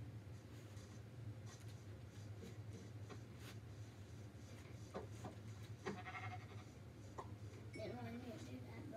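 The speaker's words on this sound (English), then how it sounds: "Come here, sheep." Sheep bleat in short wavering cries amid muffled movement and clinks, while a person talks nearby.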